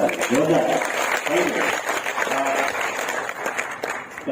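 Indoor audience at a product training meeting in Botad claps loudly for the women in a sustained burst, with a voice speaking over the applause.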